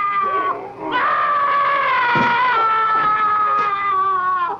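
Scream from the horror film Blood Freak: a long, loud, wavering shriek that rises and holds for several seconds, strained and piercing, alone with no talk.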